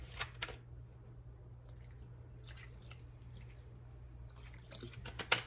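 Water rinsing hog maws during cleaning, faint wet drips and splashes with brief squishy handling sounds, quiet and close over a low steady hum.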